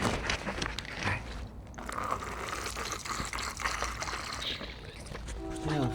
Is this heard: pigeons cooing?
no